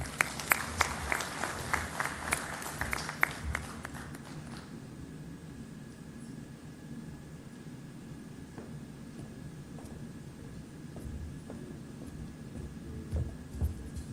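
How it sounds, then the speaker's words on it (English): Applause from a conference audience at an oil and gas convention, brisk clapping for the first few seconds that quickly dies away, leaving a quiet room with faint shuffles and a steady hum. "a very big round of applause to all our speakers that gave speeches in the first session"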